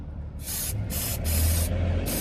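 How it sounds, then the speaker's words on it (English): Aerosol Dinitrol rust-proofing spray hissing onto a Nissan Qashqai J10 in several bursts, each about half a second with brief pauses between, close and fairly loud over a low background rumble. "spraying the bits that you can see, which are nice and easy to see"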